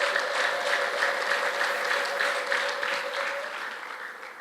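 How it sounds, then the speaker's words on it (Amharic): A church congregation claps loudly and continuously, a dense close applause carrying a sustained high ululating tone for most of its length before easing off. "ለዚህ ጌታ እስቲ እልልታና ጭብጨባ"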